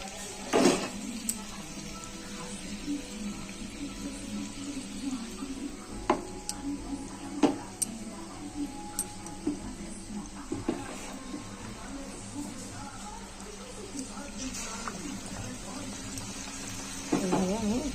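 Battered soybean chops fry in hot oil, a steady bubbling sizzle with occasional crackles and clinks of utensils, while a person talks over it.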